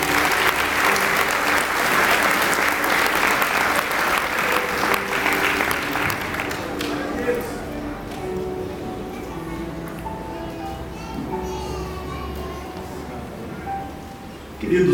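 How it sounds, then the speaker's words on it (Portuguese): A church congregation breaks into loud, sustained applause for Pastor Rogério at an evening service. The clapping fades after several seconds, leaving crowd murmur and faint voices with a low background hum. "Pode aplaudir o pastor Rogério."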